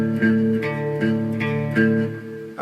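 Slow guitar riff from a song lesson, picked on the low fifth and sixth strings: about seven distinct notes ring one after another at an even, unhurried pace, close and clear with no talking.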